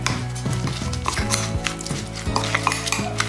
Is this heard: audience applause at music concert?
no